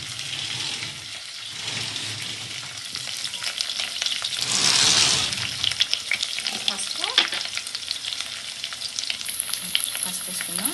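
Turmeric and ginger paste frying in a pan with steady sizzle and occasional stirring scrapes, a louder burst of hissing midway, no talking.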